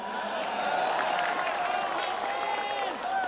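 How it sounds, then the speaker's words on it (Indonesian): Crowd applause greets Gerindra chairman Prabowo at an Indonesian political coalition gathering, a dense, steady wash of clapping and cheering that fills the space at moderate level without a break. "Tepuk tangannya dahsyat penuh rasa cinta."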